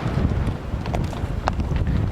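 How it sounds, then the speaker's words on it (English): Strong wind roaring across a microphone high on a mountain pass near Flattop Mountain on the Continental Divide, a steady loud buffeting rumble with faint rustles and a few clops from horses on rocky ground. "It's still pretty windy."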